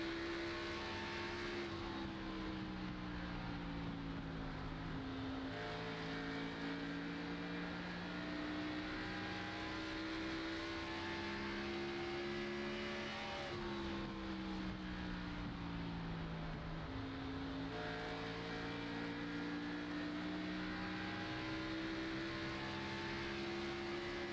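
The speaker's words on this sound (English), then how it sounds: "Let's ride along with Jimmy Mullis and get a look at what that race car is doing for the SimSeats number 46" Stock-car race car engine droning continuously on the Iowa oval in a sim racing game, steady loud harmonic whine rising and falling through two long acceleration sweeps with brief lifts, no voices.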